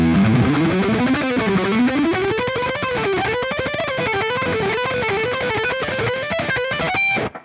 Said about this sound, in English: And then I have a pedal what's called the Tube Dreamer by Jam.